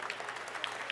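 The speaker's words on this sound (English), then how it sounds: "I just want to give you a round of applause" Applause from the audience at a government clean energy announcement, a short, steady wash of many hands clapping at moderate distance, fairly quiet and even.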